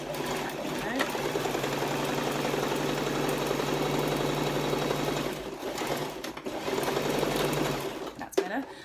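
A sewing machine stitches a dress with a close, steady, rapid mechanical whirr and rattle that runs for several seconds, pauses briefly, then starts again, while someone talks over it.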